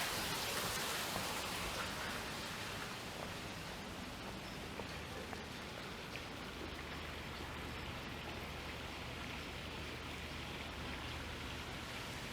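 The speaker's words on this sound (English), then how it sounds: "Guess all that running water adds to the tranquility and drowns out the sound of cars roaring by" Running water in a wedding garden along the Kingsway and Old Mill area of Toronto makes a soft, continuous hiss like a stream or fountain, steady and fairly quiet with no talk.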